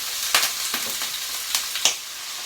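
Beef pieces hitting a hot pan for a slow-cooker stew, with a bright hissing sizzle and a few sharper spits and crackles as the meat lands. Up close, with no voices.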